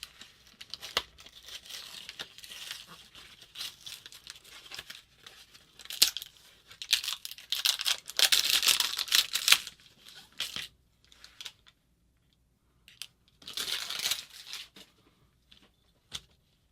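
Packaging for a new X-Acto knife is torn and crinkled open up close, with bursts of rustling and ripping separated by quiet pauses, plus a few sharp clicks.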